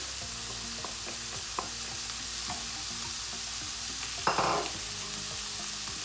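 Chopped chili crackles in a frying pan of paneer fried rice over a steady sizzle, with light clicks from a utensil and one brief, louder burst of hissing near the end.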